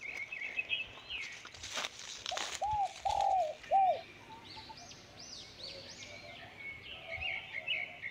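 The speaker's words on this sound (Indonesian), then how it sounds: "Ada burung." Pigeons or doves coo in a forest, with several short rising calls and chirps at moderate distance over a quiet outdoor background.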